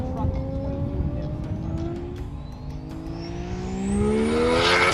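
A Nissan GT-R race car makes an easy pass, its engine rising in pitch through the gears and growing louder as it approaches, with people talking faintly in the background.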